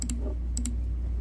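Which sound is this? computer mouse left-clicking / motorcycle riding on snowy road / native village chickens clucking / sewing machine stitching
computer mouse left-clicking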